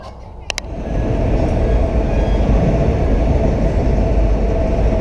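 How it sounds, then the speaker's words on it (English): A train rumbles past loudly and steadily, a dense roar filling the clip after a couple of brief clicks at the start. "a little train spotting at the prison."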